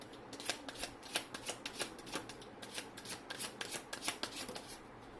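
A deck of tarot cards is shuffled close up and quietly, making a rapid, uneven series of soft riffling snaps and papery flutters that continue for about five seconds with no talking.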